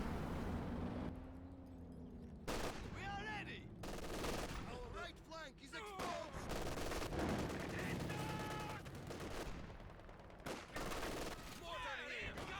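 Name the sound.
close-range mortar fire in Company of Heroes 2 video game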